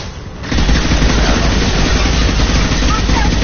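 Gunfire in Mass Effect 2 Legendary Edition: a continuous loud rattle of weapon fire and combat noise begins after a short quieter lead-in and holds steady, with brief game voice callouts over it.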